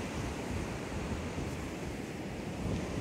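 Surf rolls steadily onto a beach at close range, a continuous broadband wash of breaking waves with some wind rumble and no talking.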